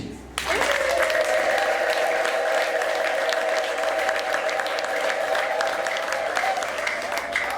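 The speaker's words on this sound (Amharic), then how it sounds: "አጨብጭቡ እስኪ" A church congregation breaks into loud, sustained applause that starts abruptly and continues steadily, with a voice carrying over the clapping.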